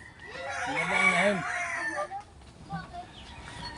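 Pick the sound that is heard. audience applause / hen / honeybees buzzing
hen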